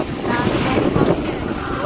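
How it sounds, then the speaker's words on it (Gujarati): Strong wind blows steadily outdoors in cool weather, a loud continuous rushing roar that buffets the microphone for the whole stretch with no talking. "વાયરો મજબૂત આવો"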